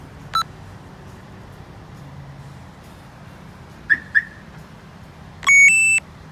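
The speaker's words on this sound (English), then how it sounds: "Disarm, it turns off the alarm." Alarm on a 2018 Ford F-350 pickup truck disarms with a few short electronic chirps, first a single beep, then a quick pair, then a longer two-tone tone, over quiet background hum.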